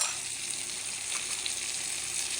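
Ground spice paste sizzling in a hot pan while cooking fish, a steady bright frying hiss at moderate level with faint stirring, no voices.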